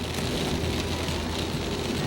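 Rain pours steadily during a tornado-producing storm on a chase from Kansas into Minnesota, a dense loud hiss drumming close on the surface, with a low rumble underneath and no voices.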